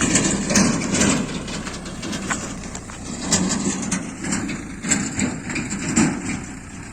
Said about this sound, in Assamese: এইখন ট্ৰেক্টৰ নদীৰ পৰা